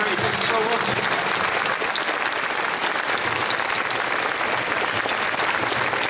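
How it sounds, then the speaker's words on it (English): An audience at a fan convention panel gives a loud, sustained round of applause, dense clapping that continues throughout with some crowd noise mixed in. "give you a big round of applause for CJ and Ari."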